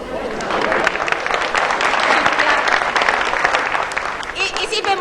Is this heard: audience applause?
yes